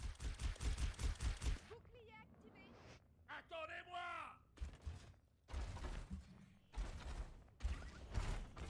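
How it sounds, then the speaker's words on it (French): Pistol gunfire in Overwatch, quick rhythmic bursts of shots in clusters alternating with stretches of talking and game effects. "Mec, il tire au pistolet."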